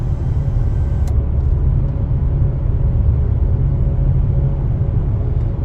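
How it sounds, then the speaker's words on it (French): Inside a BMW i5 eDrive40 electric car, the synthetic drive sound in relax mode is a continuous, even, low hum. It stays steady and fairly loud throughout, with no talk over it. "Un son un tout petit peu permanent, qui est souvent une note qui est assez unie, plutôt grave ici pour le son relax."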